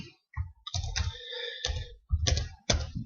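Bursts of typing on a computer keyboard, rapid clustered key clicks separated by short pauses, close and fairly loud with no talk.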